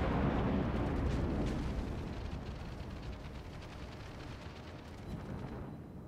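Naval gunfire and anti-aircraft flak aimed at the battleship Kongo in a video game, heard as a dense, continuous roar of overlapping booms and bursts that starts loud and eases slightly, with no talk.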